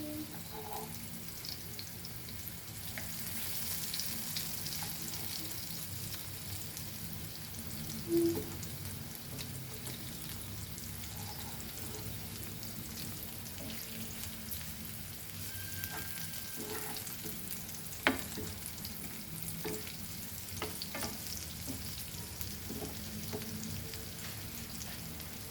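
Potatoes coated in rava fry in a pan, a steady close sizzle that holds level for the whole stretch, with a few faint clinks rising above it and no talking.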